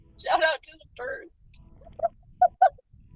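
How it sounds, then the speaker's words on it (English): Several birds call in short honking, duck-like bursts: two longer calls, then three quick clipped ones, fairly close against a quiet background. "Shout out to the birds."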